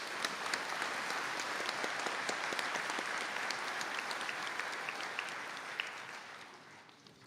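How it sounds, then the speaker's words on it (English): An audience at a college conferring ceremony in Donegal applauds graduates with dense, continuous clapping that holds steady and then slowly thins and fades at the end. "And I ask you to give them a round of applause."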